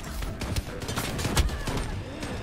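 Rapid bursts of sniper rifle and other gunfire in the first-person shooter Shatterline, a dense run of sharp, loud shots with no talking.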